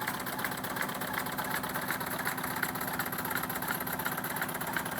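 A Jensen 25/25G all-cast live steam plant with dual throttle valves and twin engines runs steadily, giving a continuous rhythmic mechanical chugging and knocking hum at close range, unbroken for the whole stretch with no talk.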